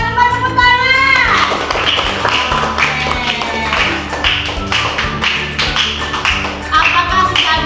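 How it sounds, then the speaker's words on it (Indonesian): Children in a classroom clap in a rhythmic, patterned applause, with quick tapping bursts and bright voices mixed in, close and lively throughout. "Kita ada tepuk tangan."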